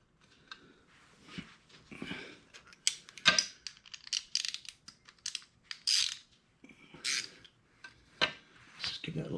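Bolts are tightened on Touratech valve cover protectors fitted to a 2022 BMW R1250GS, giving irregular bursts of close metallic ratcheting clicks and scraping tool contact, separated by short pauses.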